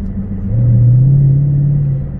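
A Dodge Charger's 6.4L engine in sport mode gives a deep, loud, close rumble that swells into a steady, rising drone as the car accelerates.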